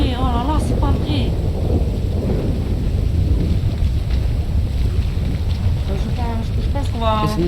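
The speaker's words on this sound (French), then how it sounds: "on a vu l'orage" Rumbling thunder and heavy rain with gusty wind in a Marseille role-play video game storm, a loud, continuous roar throughout, with brief background voices now and then.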